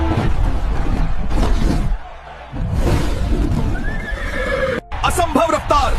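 A horse whinnies loudly and repeatedly up close, with hoof clip-clops and a brief background crowd murmur in between.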